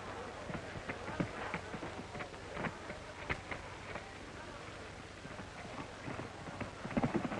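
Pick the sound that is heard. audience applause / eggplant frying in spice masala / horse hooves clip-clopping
horse hooves clip-clopping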